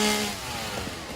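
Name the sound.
chainsaw noises in the Satisfactory video game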